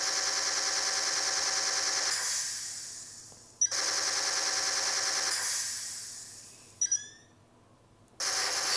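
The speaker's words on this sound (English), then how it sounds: "Really cool, overheat feature." An electronic DC-17m blaster prop plays its overheat effect: long bright hissing bursts that fade out, each capped by sharp clicks and a falling chirp, repeated three times and loud and close with no talk.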